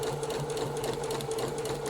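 A sewing machine runs steadily while stitching a blouse sleeve, a continuous close mechanical whir with rapid needle rhythm and a low motor hum, no talking.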